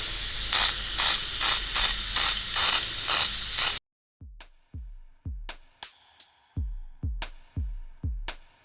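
An airbrush spraying matte varnish on terrain pieces hisses in a steady series of short sprays, then a sequence of sharp, quick puffs with silence between them, close up.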